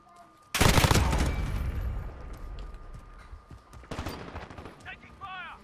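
M4A1 rifle gunfire in Modern Warfare, opening with a sudden loud burst of rapid shots that decays into a rumble, then another volley of shots, with a voice calling out near the end.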